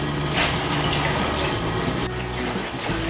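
Tap water pours into a pot for blanching chicken, a loud continuous splashing rush that shifts tone partway through as the pot fills.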